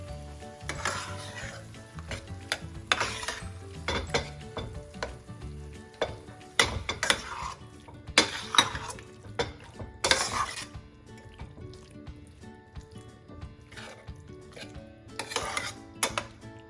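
A spoon clatters and scrapes around a pan of eggplant and potato curry after salt goes in. Bursts of metallic stirring come at irregular intervals over a soft background sizzle, with no speech.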